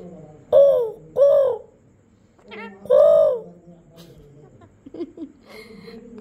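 A parrot imitating a crow gives three loud, hoarse calls in quick succession, then softer squawks and chatter follow, close and clear.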